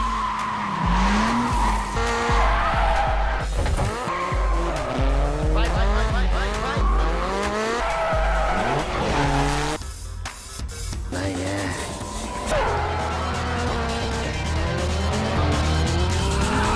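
Drifting cars in a Tokyo street-racing film scene, with long wavering tire squeals and skids over revving engines, loud and continuous for most of the stretch, with a short drop near the middle and music or voices mixed in.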